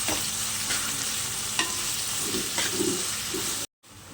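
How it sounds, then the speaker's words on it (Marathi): Onions fry in a pan as a spoon stirs them. A constant sizzle runs under regular scraping strokes, then drops out in a brief silent gap near the end. "आपण कांदा परतवून घेऊया आणि आहे ना कांद्याचा कलर आहे ना थोडा ब्राऊन झाला पाहिजे"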